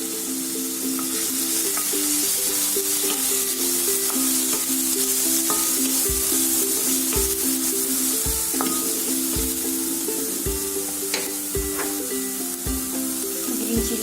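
Ginger sizzles steadily in hot ghee in a pan, a loud, close frying hiss that holds throughout, with occasional stirring taps and clinks.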